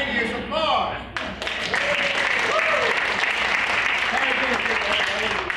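A magic show audience breaks into spontaneous applause, dense and sustained clapping filling the room, with scattered voices and cheers mixed in throughout.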